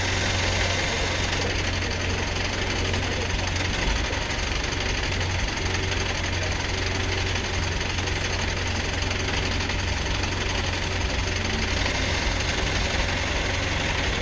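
A traditional Indian cold press oil extraction machine runs continuously, a loud, dense mechanical drone with steady knocking and grinding texture and a low motor hum, unbroken for the whole stretch and with no voices.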